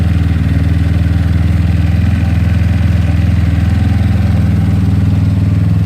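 A GY6 scooter engine with a 30mm carburetor idles steadily and loudly up close, a constant low putter with a faint rattly clatter, no voices.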